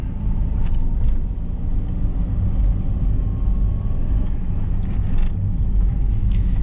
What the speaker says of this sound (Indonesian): Mobil jalan, saya gas lagi.